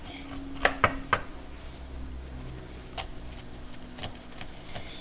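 A knife slicing kernels off an ear of corn for Mexican street-corn elote, three quick crisp cuts close together, then a few softer scattered knocks against the board in a quiet kitchen.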